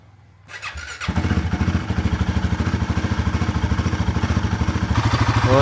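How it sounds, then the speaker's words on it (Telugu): A Royal Enfield Himalayan 450 motorcycle cold-starts in snowy weather: a brief crank catches about a second in, then the engine settles into a loud, steady, close idle with an even pulsing beat and no talk. "మనమైతే కోల్డ్ స్టార్ట్ కూడా చేయాలి బైక్ని."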